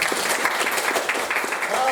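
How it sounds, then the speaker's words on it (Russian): Audience applause at a summer literary camp event in Khakassia, a dense, steady wash of clapping over the full two seconds, with some voices mixed in. "Аплодисменты"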